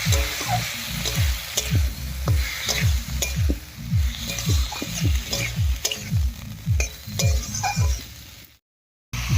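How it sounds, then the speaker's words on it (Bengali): Potatoes fry in a spice masala for egg chorchori, stirred with a spatula scraping the pan in a steady repeated rhythm over a constant close sizzle, with a brief silent gap near the end. "আলুটা দিয়ে মশলার সঙ্গে খুব ভালো করে মিশিয়ে নিয়েছি"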